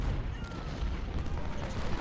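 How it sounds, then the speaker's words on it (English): Musket volleys crackle in Ultimate General: Civil War during a Confederate battle at Chancellorsville, a dense, continuous rattle of distant gunfire rolling on without pause. "Volley's going out and out."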